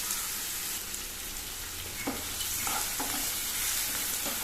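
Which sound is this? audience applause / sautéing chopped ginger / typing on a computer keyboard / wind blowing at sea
sautéing chopped ginger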